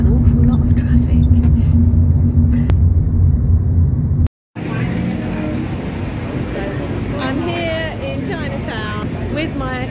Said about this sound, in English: there's an awful lot of traffic.